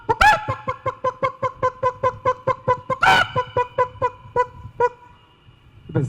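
A performer vocally imitates a rooster and hens at a comedy show, giving a rapid run of about twenty clucking, honking calls with two louder crowing bursts, loud and close with no talk over it.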